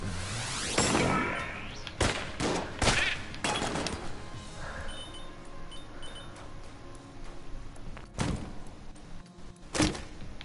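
Gunfire and a charge shot in the video game Enter the Gungeon, with sharp repeated shots and impacts scattered across the stretch, loud and punchy over a busy game soundscape.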